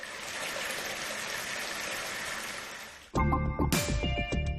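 Water gushes steadily from a pipe into a bucket, a dense continuous rush that shifts abruptly to a ringing, splashing fill as the stream strikes the bucket, close and fairly loud.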